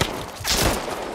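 A short burst of gunfire in The Last of Us, a close, loud crack of a shot followed by a noisy rattling tail, with no talk.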